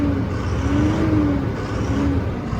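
A truck engine drones steadily nearby with a rising and falling whine, holding a fairly even level throughout and with no voices over it.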